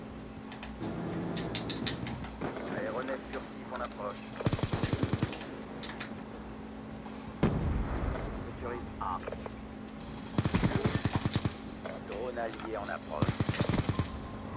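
Bursts of automatic gunfire from a weapon in Black Ops 2, a solo live match, fire in several rapid rattling volleys between quieter stretches of game noise, with someone talking over the action.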